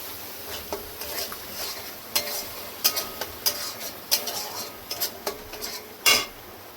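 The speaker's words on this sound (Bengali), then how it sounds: "লঙ্কার গুঁড়ো, হলুদ গুঁড়ো, আর একটু ভেজে নেব মশলাটা।" Red chili powder and turmeric powder fry in a pan for chole, with a faint sizzle under clinking metal utensils and scattered sharp taps as the spices are stirred.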